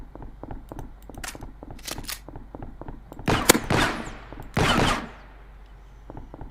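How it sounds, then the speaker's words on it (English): Pistol shots in a video game ring out as sharp separate cracks, a few spaced bursts that grow louder and denser midway, with no talk over them. "let's take the pistol out and shoot the big bad, eh?"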